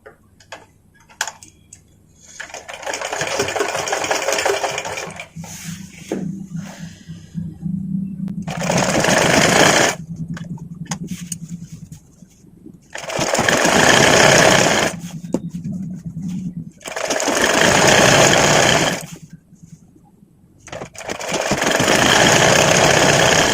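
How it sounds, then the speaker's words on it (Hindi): Sewing machine stitching along a petticoat waistband, running in several loud sustained bursts separated by quiet pauses, close and without talk. "इस तरह से सीधा आप सिलाई मारते हुए पूरा कमर पट्टी पर जाइएगा।"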